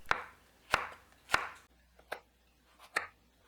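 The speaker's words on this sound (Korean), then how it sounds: "청양고추 2개를 어쓱 썰어줍니다." Two Cheongyang chili peppers sliced with a kitchen knife on a cutting board, three sharp chops in quick succession, a short pause, then two more cuts, close and fairly quiet with no talk.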